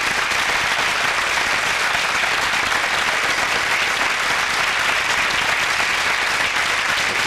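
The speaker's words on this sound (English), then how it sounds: "Applause all round" Sustained loud applause fills the room after a payload separation during an Ariane 5 launch carrying the SATMEX 5 satellite, a dense, steady clapping from a crowd without pause.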